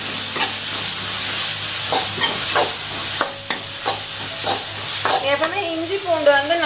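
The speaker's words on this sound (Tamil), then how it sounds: "ஸோ தக்காளி ஆட் பண்ண போகிறோம். தக்காளியும் நல்லா வதங்கணும்." Tomatoes sauté in a pan for a chicken curry, with a loud close sizzle and rhythmic spoon strokes against the pan, plus faint tonal sounds near the end.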